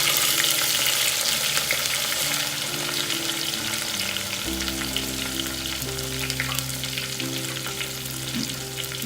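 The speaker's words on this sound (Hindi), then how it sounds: "इसको अच्छे से मिक्स करेंगे।" Undhiyu vegetables frying in a pan while being mixed give a dense, continuous sizzle with stirring scrapes, close and steady, over a low background hum, with no talking.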